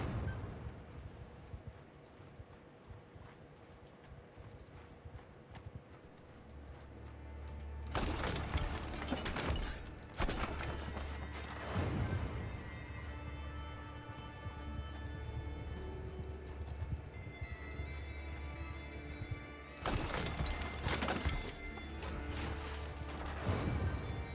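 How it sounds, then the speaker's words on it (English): Horses' hooves clopping in Mount & Blade II Bannerlord, a steady irregular patter of many footfalls, moderately loud, with heavier crashing impacts breaking through at intervals and no talking. "Hear that? Their footsteps."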